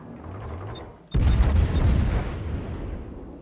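Warship guns in a naval video game fire a heavy volley that lands as one sudden booming blast. The boom rolls on as a dense rumble for a couple of seconds over a low engine hum.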